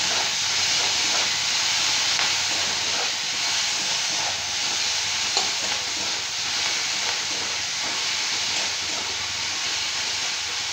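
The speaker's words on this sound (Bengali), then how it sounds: "পেঁয়াজটা ভাজা ভাজা করে নিচ্ছি।" Chopped onions fry in a pan with an even, hissing sizzle that holds steady for the whole stretch, close and fairly loud.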